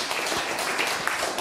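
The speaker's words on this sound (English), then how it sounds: "So let's give him another round of applause." An audience in a church recital hall gives a pianist a dense, steady round of applause after a Liszt sonata, with many hands clapping continuously and evenly.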